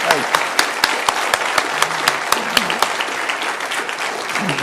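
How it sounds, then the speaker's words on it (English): Audience applause breaks out in a room at a question-and-answer event with Warren Buffett, a dense, steady clapping of many hands close by that holds evenly throughout. "Let's give a good round of applause to that."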